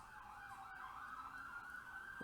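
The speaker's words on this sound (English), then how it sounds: "And I hear sirens." Ambulance siren wailing through busy streets in Tropico 4: Modern Times city-building game, a faint, steady up-and-down tone heard at a distance for a couple of seconds under traffic.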